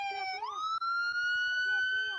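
A police car siren wails during a high-speed chase after a stolen SUV, its tone sweeping up and then holding steady and loud, with a faint rhythmic pulsing underneath.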